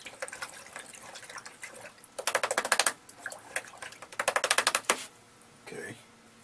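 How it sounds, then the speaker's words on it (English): An artist's paintbrush is washed in water, with sloshing and bursts of rapid clattering as the brush is swished and tapped in a container. A quiet gap follows the activity. "I have to wash this brush."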